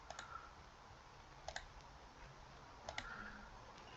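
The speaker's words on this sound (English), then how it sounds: "by clicking the Save button here in the toolbar" Mouse clicks land on a toolbar Save button in VS Code, crisp paired clicks recurring in a few quick bursts over a faint, steady background hiss.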